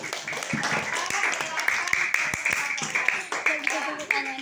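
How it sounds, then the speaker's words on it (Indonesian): Classroom students clapping, a loose scattering of distinct claps heard under steady talking voices. "Tepuk tangan."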